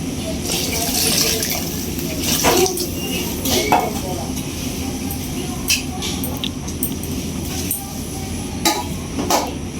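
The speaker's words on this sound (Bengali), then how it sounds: "খুদে বেঁধে এখন জল দেওয়া হইতেছে পরিমাণ মতো" Water is poured into a pot of broken rice over a steady background hum, with scattered metallic clinks and knocks of a pot and utensils up close; a voice can be heard faintly.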